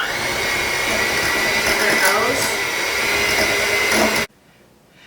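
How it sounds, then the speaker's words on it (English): Hand blender whirring steadily while it blends thick dog treat batter in a small bowl, loud and close for about four seconds and then cut off abruptly, with a voice speaking briefly over it. "I have never tried to use a blender in a small bowl like this."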